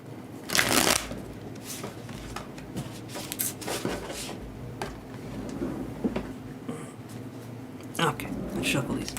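Tarot cards being shuffled close up, with repeated riffling bursts and softer card slides at irregular intervals, while a person talks over them.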